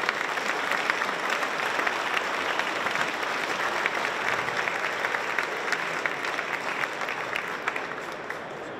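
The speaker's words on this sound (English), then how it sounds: "Now, really and truly, we should give them all a big round of applause." An audience at a governor's public address bursts into sustained, dense applause, steady clapping from many hands that holds for several seconds before easing slightly at the end.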